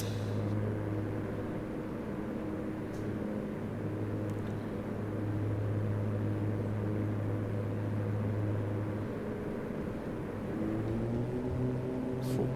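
The twin propeller engines of an A2A Aerostar in Flight Simulator 2024 drone steadily through a landing approach, a constant, fairly loud hum with no breaks and no talking.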